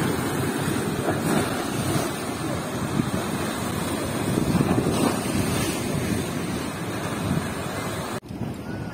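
Sea waves and wind sweep the shore at Odesa in October, a continuous roar of surf with gusty wind buffeting the microphone, steady throughout before a brief dip near the end.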